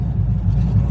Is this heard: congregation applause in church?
no